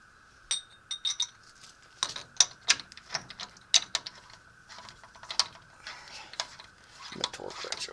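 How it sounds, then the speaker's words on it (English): A torque wrench ratchets while tightening a CV axle to 72 foot-pounds on a 1989 Nissan D21 Hardbody. Short bursts of sharp mechanical clicks come up close, mixed with scattered metallic clinks and separated by brief pauses. "My torque wrench over here."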